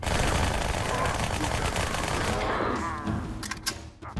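Two submachine guns dual-wielded in Halo 2 fire as a loud, continuous rapid stream for about three seconds, then fade out as a few separate clicks and impacts follow.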